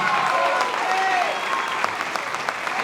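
Audience applause at a Peronist political seminar in Argentina, greeting Axel Kicillof: a dense, steady wash of clapping from a sizeable crowd, sustained throughout with a few sharper individual claps near the end.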